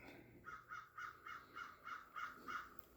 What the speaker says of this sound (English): Is that crow out there sentient?